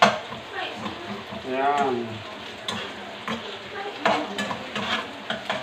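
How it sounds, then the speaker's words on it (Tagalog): Ginger sizzles in hot oil in a pan as it is sautéed and stirred, with a continuous crackling fry, spoon scrapes and taps, and a voice talking over it. "Gisa-gisa mo lang. Pero kailangan lutuin muna ng maigi yung luya para mabango, masarap."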